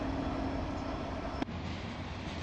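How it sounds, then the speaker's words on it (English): A Union Pacific coal freight train with helper locomotives rumbles steadily past, a continuous low roar with a faint tonal hum and one brief clank partway through. "Extra locomotives in the middle or the end of a train are called helpers."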